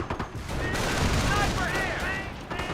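Dense gunfire and shelling rage through a Company of Heroes World War II battle, rapid bursts of small-arms and machine-gun fire with booming impacts forming a loud, continuous barrage, with a voice talking over it.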